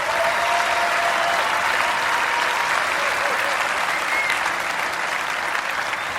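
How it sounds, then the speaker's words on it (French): A theatre audience at a French stand-up comedy show applauds steadily and loudly, a dense unbroken wash of clapping across the whole stretch with faint voices mixed in. "Vous pouvez l'applaudir."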